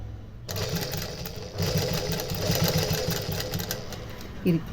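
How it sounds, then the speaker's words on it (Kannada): An electric sewing machine stitching a blouse hums and whirs steadily after a short pause at the start, a close mechanical drone running beneath someone talking. "ನನ್ನ ಮಾತಿನ ಮಧ್ಯ ಮಧ್ಯ ಸ್ವಲ್ಪ ಮಿಷಿನ್ದು ಕೂಡ ಸೌಂಡ್"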